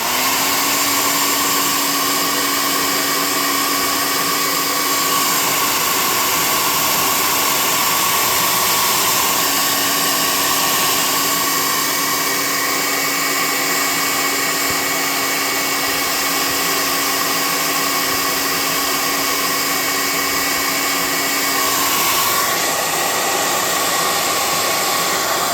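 Hair dryer blowing over freshly painted model terrain, a loud steady whooshing hum with a constant motor whine that runs unbroken for the full stretch.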